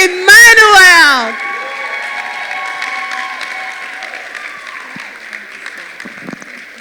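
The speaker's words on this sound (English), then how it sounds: "with a standing ovation and a heavy round of applause, make welcome with me Dr. Jola Grace Emmanue" Applause from a seated audience at a women's leadership event, a short loud burst at the start that fades into a long, softer crowd wash with scattered claps.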